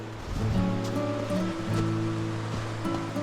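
Steady rushing water pours continuously nearby over a broken beaver dam, a dense churning flow with no pauses and no voices.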